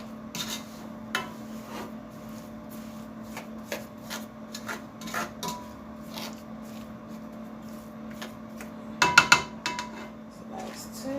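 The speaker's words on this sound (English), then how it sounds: "I'm just going to stir them just a little bit" Spoon stirring peaches in a pot for jam, giving soft scraping and occasional light clinks against the pot, close by and fairly quiet, with a brief cluster of louder knocks near the end.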